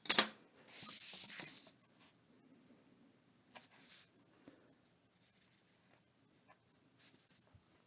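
A pen sketches freehand on paper in short scratchy bursts of strokes, close and fairly faint, with pauses between lines.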